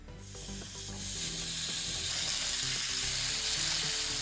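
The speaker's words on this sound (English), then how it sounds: "now once our pan is up to heat, we're gonna lay in our tofu" Tofu pieces laid into a hot grill pan for plant-based gyros, with a steady frying sizzle that swells and holds loud and close, mixed with faint clinks and scraping from the pan.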